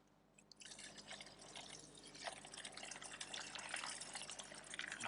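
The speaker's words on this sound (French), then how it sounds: "on remplit le bidon avec de l'eau" Water pours steadily into a 20-litre jerrycan, a continuous gushing, dripping rush that builds in fullness over a few seconds, close up with no talking.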